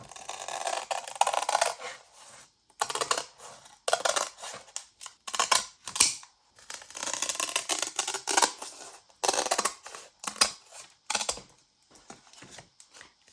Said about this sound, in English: my next step is to cut away the spine from this book cover